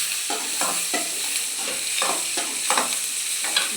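Seven or eight garlic cloves frying in a pan while being stirred, a continuous bright sizzle broken by regular scraping strokes, close and clear with no talking.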